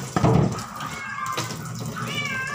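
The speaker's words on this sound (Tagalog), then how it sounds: "Ingay ng pusa" A cat meows loudly and insistently, a drawn-out cry followed by a shorter one, close by with faint background noise.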